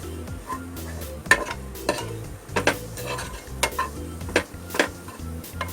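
A spoon stirs and mixes a salted, spicy stuffing for stuffed capsicum in a pan over low heat, giving repeated scraping clinks and a soft sizzle under background music.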